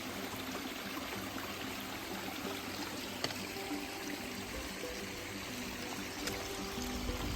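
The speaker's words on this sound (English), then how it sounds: "Look at the water flowing down over here." Runoff from overnight rain streams down a hiking trail, a steady, close, rushing flow that stays even and continuous throughout, with no voices.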